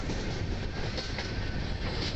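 A moving train heard from inside, a loud steady rumble of wheels on rails with rhythmic clickety-clack beats running continuously and no voices.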